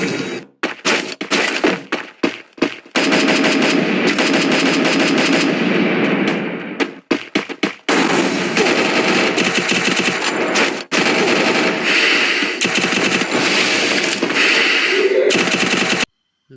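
Automatic weapon fire in a shooter video game, long sustained bursts of rapid shots broken by short gaps and isolated cracks, very loud and close throughout with no voices.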